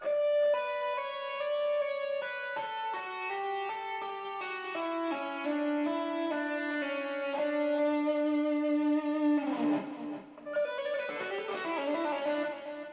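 A clean electric guitar plays a melodic rock lick, a run of sustained single notes stepping downward, then a brief strummed flourish before the line resumes.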